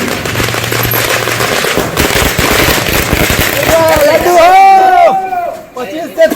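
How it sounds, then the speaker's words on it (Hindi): Fireworks at a celebration in Bihar after a chief minister's swearing-in, a dense burst of rapid crackling pops followed by whistling rockets, loud and under crowd noise and talk. "कहीं आतिशबाजी हो रही थी"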